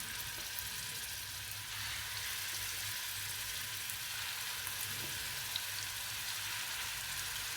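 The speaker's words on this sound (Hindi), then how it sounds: "अब फ्राई पैन में ऑयल गरम करके इन सबको फ्राई कर लेते हैं" Kebabs frying in hot oil in a frying pan, a dense, even crackling sizzle heard close up and steady throughout, with a few small pops and no talking.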